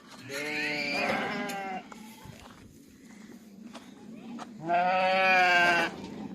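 Two long, loud bleats from nearby sheep and goats in a village with a quieter stretch of shuffling hooves and faint background noise between them.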